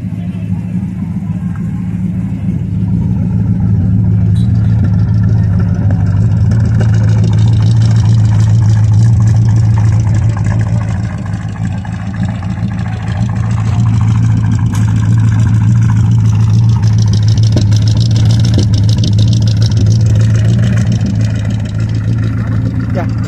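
A 1968 Dodge Coronet V8 fitted with an Edelbrock air filter runs steadily with a loud, deep, constant rumble up close, holding an even drone throughout.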